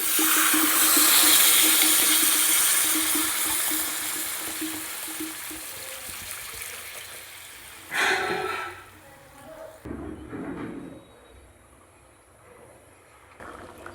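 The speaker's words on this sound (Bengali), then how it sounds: "এবার দিয়ে দেব পরিমাণ মতো জল" Okra, pointed gourd and potatoes sizzle loudly in hot oil in a pan, then a sudden splash and hiss as water goes in, after which the frying settles to a quieter, subdued bubbling.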